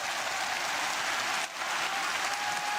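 Crowd applause for Rodtang after a kickboxing rematch with Takeru at a fight event, a steady roar of clapping from a large arena audience, even and sustained throughout.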